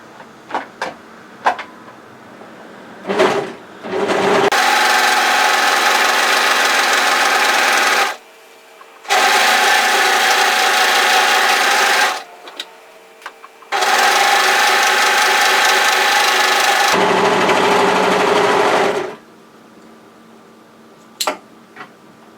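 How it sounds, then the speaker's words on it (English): An overlocker serges a seam on loose-fitting bib overalls in three loud sustained whirring bursts of several seconds each, separated by pauses with small clicks and fabric handling. "We're going to overlock that seam to tidy it."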